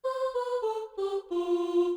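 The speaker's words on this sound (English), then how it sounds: "I'm going into the general MIDI library and using the Voice Ooze preset" A synthesized choir-like voice, the General MIDI Voice Oohs preset in FL Studio, sings a short descending sequence of five sustained notes, clean and alone.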